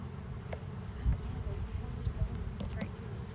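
A honeybee swarm gathered on a mailbox hums low and continuously near the entrance, a close buzzing drone with faint rustles and small knocks, while a person talks over it.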